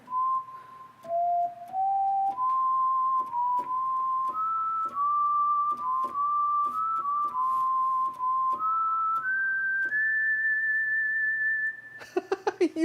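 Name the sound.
person whistling Auld Lang Syne intro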